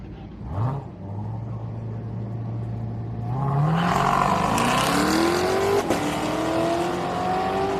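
A turbocharged Mustang race car launches at a drag strip, its engine note climbing steeply as it accelerates hard and roars away, with a loud sustained rising drone and a second engine joining partway through.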